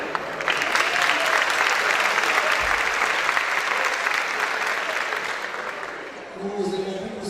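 Sustained, full applause from the audience at a national thesis-presentation contest final during the applause-meter vote, loud and even before tapering off as voices emerge near the end.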